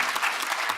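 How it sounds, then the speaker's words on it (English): Applause from a conference audience at a skills development summit, a steady wash of many hands clapping throughout, fairly loud and without talk. "Let's give them a round of applause to TeleSure."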